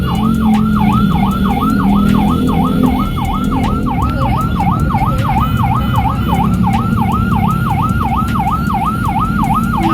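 Ambulance siren wailing in a steady, rapid up-and-down cycle on a road, loud and close throughout, with a motorbike escorting it and traffic rumbling underneath.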